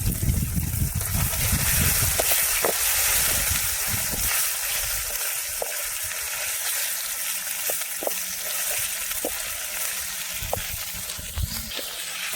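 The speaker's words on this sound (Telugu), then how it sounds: "అలాగే టమాటా కూడా వేసుకునేసి కొంచెం గ్రేవీ వచ్చేదాకా కలిపెట్టుకున్నాము" Tomato stirred into oil with fried onion, green chilli and ginger paste for an Indian mushroom curry, a steady sizzle with occasional spoon clinks against the pan, close and continuous without talk.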